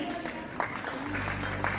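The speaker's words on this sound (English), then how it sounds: "A warm applause for energetic Varidi Patel" Applause at a pre-primary school graduation day ceremony, a steady patter of many hands clapping continuously from a seated audience, with an announcer's voice partly over it.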